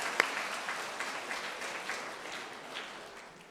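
An audience claps in applause during a Christmas Advent lecture by a Catholic priest, a soft, steady wash of many hands with a few sharper claps, moderately distant and fading slightly over a few seconds.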